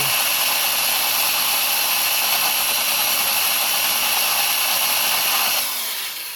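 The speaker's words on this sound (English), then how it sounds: "May have to get a drill bit and drill it out." A loud, steady high-pitched whine of a power drill drilling out a bolt on a 2009 Honda CBR600RR runs continuously for several seconds, then winds down at the end.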